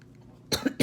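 A woman gives a couple of quick, close coughs, two short harsh bursts after a moment of quiet room tone.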